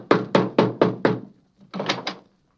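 Knocking on a wooden house door: a quick run of five firm raps, a short pause, then two or three more, close and sharp with nothing else heard.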